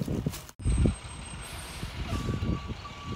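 A truck backs up a hillside driveway while delivering a cistern, a steady backup beep tone running under low engine rumble and a brief air-brake hiss at the start.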